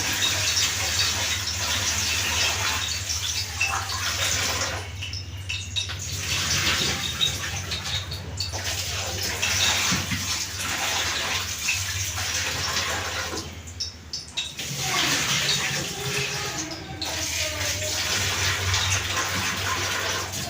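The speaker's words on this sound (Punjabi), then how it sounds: "ਆਪਾਂ ਹੁਣ ਚੌਲਾਂ 'ਚ ਪਾ ਲਿਆ ਪਾਣੀ" Water runs into a pot of rice for a pea rice dish as a steady, close gushing stream that lasts throughout, with a few brief dips in flow and no voices.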